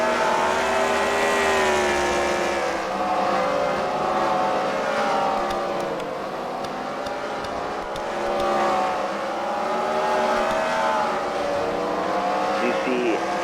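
Race cars circle a track at a Freedom Factory fight-night event, several engines droning loudly together with a steady wavering pitch that rises and falls as they pass through the laps.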